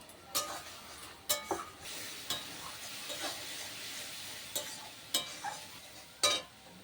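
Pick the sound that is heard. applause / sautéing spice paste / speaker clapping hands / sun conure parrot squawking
sautéing spice paste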